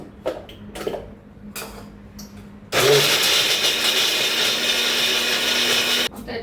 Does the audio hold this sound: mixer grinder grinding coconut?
yes